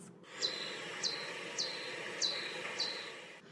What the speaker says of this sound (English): has calls which sound like this.